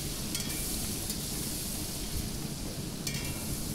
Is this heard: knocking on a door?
no